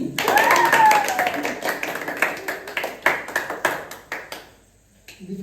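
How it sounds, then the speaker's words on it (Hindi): A burst of clapping and scattered applause rings out over lively voices, fading toward the end. "ताली"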